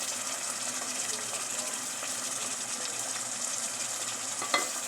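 Chopped tomatoes and green capsicum hit a pan of frying onions, raising a steady, fairly loud hissing sizzle that runs unbroken, with a sharp clink near the end.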